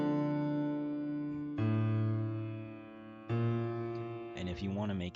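A sustained synthesized chord, the opening chord of a beat's progression built in music production software, held as a rich harmonic tone, then restruck twice with short pitched notes at the end, with no talking.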